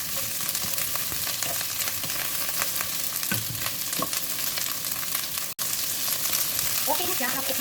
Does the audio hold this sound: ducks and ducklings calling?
no